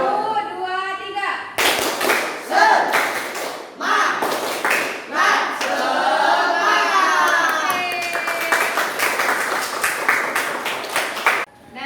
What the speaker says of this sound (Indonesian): Oke. Mulai tepuk semangat ya. 1, 2, 3.